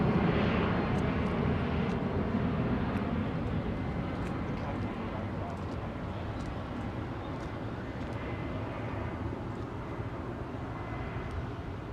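Airliner departing runway 09R at London Heathrow Airport, a continuous broad jet engine roar that stays loud and steady throughout, heard from a distance outdoors.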